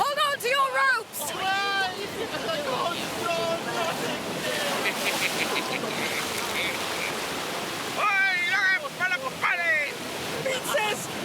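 Surging ocean waves and gusting wind at sea, a steady rushing wash running under several voices talking loudly throughout.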